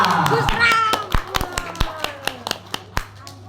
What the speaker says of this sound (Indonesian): Tepuk tangan untuk Mas Raka.